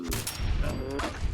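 A quick pair of gunshots rings out in a Fallout 4 firefight, with sharp reports over steady game background noise.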